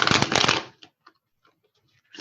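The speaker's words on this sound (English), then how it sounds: "tell me how many times they want the card shuffled" Tarot cards being shuffled by hand, a quick loud riffle of papery flutter at the start, followed by a few faint soft taps and card slides in near silence.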